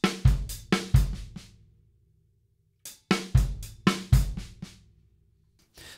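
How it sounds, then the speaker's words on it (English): A drum kit playing a funky paradiddle groove, sharp accented snare hits mixed with softer strokes and bass drum thumps, in two short bursts separated by a brief pause. "So one E and a two E and a of the second measure sounds like this."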